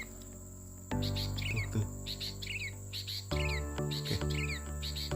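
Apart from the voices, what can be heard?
sooty-headed bulbuls (kutilang) chirping in a rubber plantation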